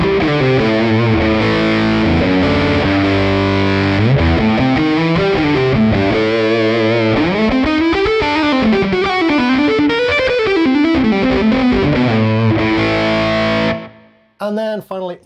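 A guitar through a JHS Legends of Fuzz pedal with the attack control turned all the way down, giving a thick, loud fuzzy tone with sliding, bending melodic lines that ends abruptly, followed by a brief burst of talking.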